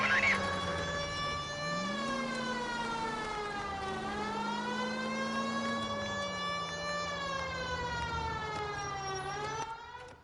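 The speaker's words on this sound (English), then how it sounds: "that siren chat is loud as shit" Police car siren in the video game L.A. Noire, a loud continuous wail whose pitch sweeps slowly up and down, sustained throughout without talk.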